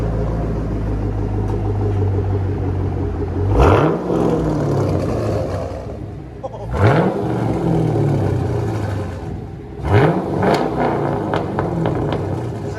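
A Chevrolet Camaro V8 revving through its exhaust tips, three separate blips that rise sharply in pitch and fall back to a deep rumbling idle, close and loud.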